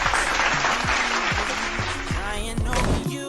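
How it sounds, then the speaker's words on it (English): Applause at a university pageant event, a dense burst of clapping heard under a speaking voice and an intermittent tonal glitch, lasting a few seconds. "A virtual round of applause."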